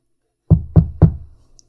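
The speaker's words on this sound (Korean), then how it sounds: "그렇게 잠이 들려는 찰나 웬 노크 소리가 들렸습니다." Three firm knocks on a door at a dormitory room late at night, close and heavy, evenly paced in near silence.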